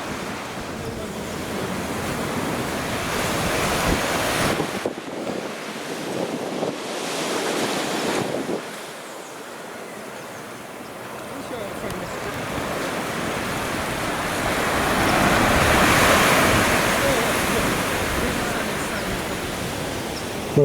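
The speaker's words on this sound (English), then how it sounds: "this is the beach early in the morning. People are in the ocean" Ocean waves wash onto a beach in Antigua early in the morning, a steady surf roar that swells and eases, mixed with wind buffeting the microphone.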